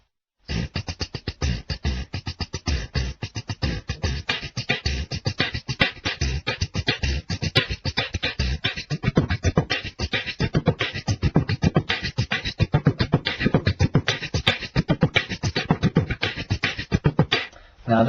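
A vocal beatboxer performs a rapid, dense 16-beat pattern, a voice imitating kick drum, snare and hi-hat in a continuous unbroken stream, close and steady for several seconds.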